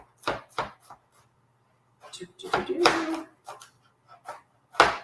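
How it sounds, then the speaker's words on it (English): Garlic cloves minced with a knife on a cutting board, a few quick irregular chops in short bursts between stretches of nearby talk, close and crisp. "I'm just going to kind of mince this up before I put it in the mortar and pestle"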